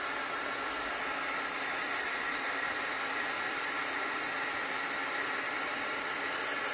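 A hair dryer blows steadily and loudly to dry wet chalk transfer paste on a spring flower craft project, producing a constant, close airy roar with no pauses and no talking.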